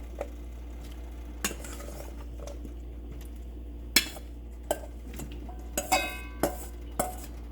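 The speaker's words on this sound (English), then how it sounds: "now I'm putting in the potatoes and the carrots" Chopped potatoes and carrots dropped into a chicken soup pot, heard as a handful of sharp knocks and clatters spaced across the moment, with a steady low hum underneath and no talking.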